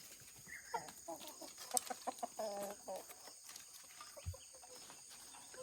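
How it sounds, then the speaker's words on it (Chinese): Free-range farm chickens kept by an old man at a remote mountain homestead cluck in short, irregular bursts at moderate distance, with a few sharper calls among them and quiet rural ambience between. "老人还养了一点土鸡"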